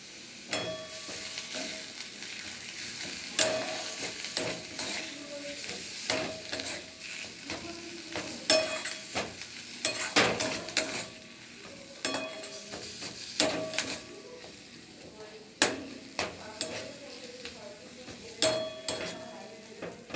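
Spoon stirring a cooking filling in a pan with chopped coriander, repeated scraping clinks and knocks against the metal over a soft, steady sizzle, no talking.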